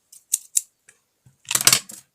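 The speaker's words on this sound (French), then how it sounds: "Ciseaux." Craft scissors snip during an air-dry clay heart-making project: a few quick separate snips, then a longer burst of close, crisp cutting, with no talk.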